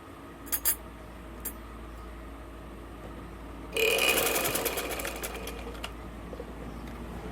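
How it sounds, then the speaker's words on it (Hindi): A sewing machine stitches a folded half-inch hem on a gents' shalwar in a short, close burst of rapid mechanical whirring, preceded by a few light clicks. "इसको मैं अब सिलाई लगा दूंगी"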